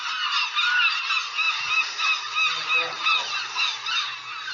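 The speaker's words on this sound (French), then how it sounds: "À Mogador, les goélands se regroupent et sont agacés." Seagulls on the Mogador shoreline give harsh, honking cries that repeat steadily in a continuous chorus, with no talking over them.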